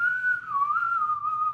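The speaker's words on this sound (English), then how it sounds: "that little beautiful whistle that she put in the back." A whistle in a song: a single clear, sustained whistled tone that wavers slightly in pitch, up close and alone for under two seconds.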